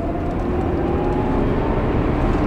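Inside a Tesla Model X electric car accelerating onto a motorway, a steady, dense road and wind roar fills the cabin at high level without pause or engine note.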